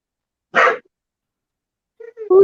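A dog in a room gives one short, sharp bark, followed by silence, then faint sounds at the end.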